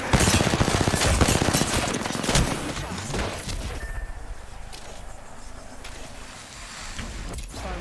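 Video game gunfire, a dense rattle of rapid automatic shots that stays loud and near for several seconds, then thins into scattered shots and impacts, with no voices.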